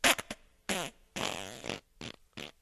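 Several loud, close fart sound effects go off one after another, some short and sputtering and one long and wavering, with silence between them.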